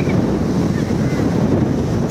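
Strong wind in Okinawa buffets the microphone with a loud, rough rumble through the whole short stretch, gusting unevenly, with no clear speech.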